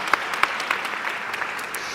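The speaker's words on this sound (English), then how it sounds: "Unbelievable. Round of applause." Audience applause at the Standard Bank Top Women Conference 2023, a dense steady patter of clapping from a conference crowd filling the short moment.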